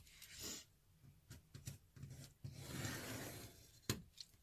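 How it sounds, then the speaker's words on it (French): Pencil or pen drawing a straight line across paper to join plotted points, a soft close scraping rasp in several short strokes and one longer sustained stroke, with no talking. "je relie mes points, je fais mon trait"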